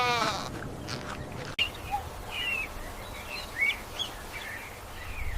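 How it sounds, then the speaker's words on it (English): A tiny sandy desert goat gives a short bleat at the start, followed by a few faint, scattered higher calls over a quiet, hissy background. "This is a tiny sandy desert goat."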